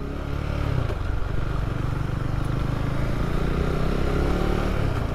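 A motorcycle being ridden gives off a steady, loud engine drone with continuous rumbling and road noise that holds evenly throughout, with no voices.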